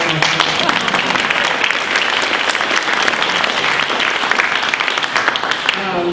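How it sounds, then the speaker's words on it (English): A crowd applauds loudly and steadily for several seconds, a dense wash of many hands clapping close by. "And can I have a round of applause for Peter who made that?"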